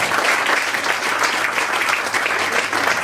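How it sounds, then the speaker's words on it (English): An audience at a formal event in Singapore gives a round of applause to welcome a guest, with loud, dense, continuous clapping filling the room. "Would you please give a round of applause to welcome him?"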